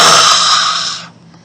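A person mouth-breathing in a raspy imitation of monster panting, one long harsh breathy exhale up close that trails off abruptly, then near silence.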